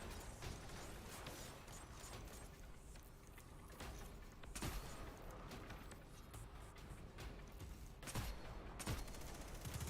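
Sniper rifle gunfire in the video game Destiny 2, with a few sharp shots cracking out over a dense, constant wash of game noise and mechanical clatter at moderate loudness.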